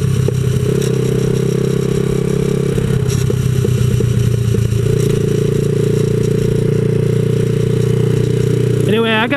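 A 127cc X7 pocket bike engine runs steadily at a buzzing idle-to-mid pitch throughout, with a brief rise near the middle and a sharp rev climb at the very end; a voice talks over it.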